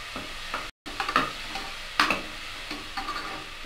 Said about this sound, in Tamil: உப்பு போட்டு வதக்கி விட்டுடலாம்.